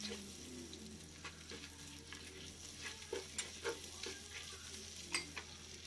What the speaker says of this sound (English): Now I'm adding cinnamon sticks, 2 cloves and about 3 cardamom. Saute it.